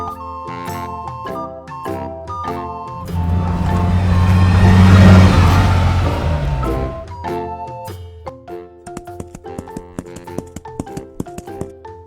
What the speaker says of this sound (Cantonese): H hamburger car 漢堡包車。